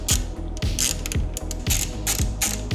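Ratchet wrench tightening a thread-locked adjustment bolt on Ducati Panigale V2 Bonamici rearsets: a steady, close clicking run of quick pawl ticks with rhythmic swings of the handle, loud and alone.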